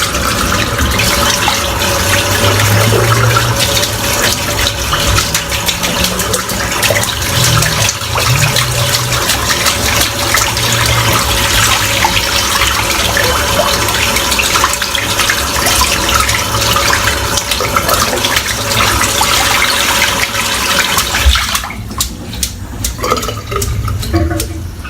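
Tap water runs steadily and loudly from a faucet while a shaving brush is rinsed under it, a continuous splashing rush that cuts off near the end, leaving quieter handling sounds.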